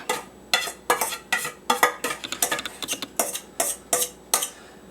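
A spoon stirs chopped cranberries and orange zest in a small saucepan over medium heat, giving a steady series of sharp scraping and clinking strokes against the pan, close and clear with no talking.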